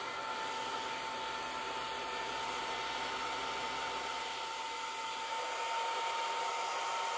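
Cooling fans with custom ducts on a Longer Ray5 20W laser module give off a steady airy whoosh with a faint high whine, constant and close throughout.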